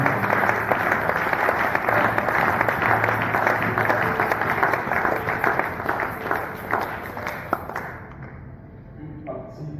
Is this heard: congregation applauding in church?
yes